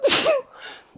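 A single sharp sneeze bursts out close to the mic, a breathy explosive release followed by a softer trailing exhale, alone without talk.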